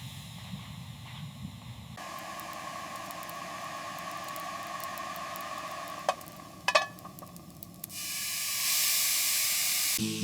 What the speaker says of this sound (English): The water's boiling now. Just need to mix this in